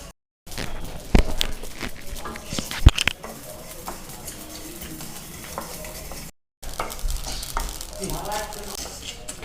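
Garden cress (aliv) seeds roast in a dry pan, giving a soft, steady patter and rustle with scraping stirs and a few sharper knocks, briefly cut by two gaps.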